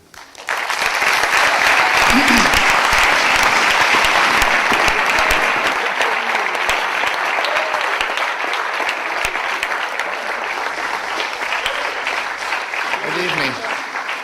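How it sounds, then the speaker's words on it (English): Sustained, loud applause from a university audience welcoming a speaker at an evening lecture, dense and even throughout, with brief vocal sounds near the start and end. "It's nice to be applauded before I've said a word."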